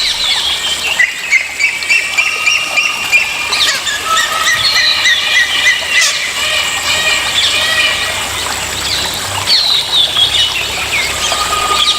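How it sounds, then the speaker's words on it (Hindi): Parakeets and pigeons eating soil in Corbett National Park give constant shrill squawks and squeals, with bursts of wing flapping, over busy outdoor ambience. "कुछ पक्षी भी मिट्टी खाते हैं, जैसे कि ये पैराकीट्स और पिजन।"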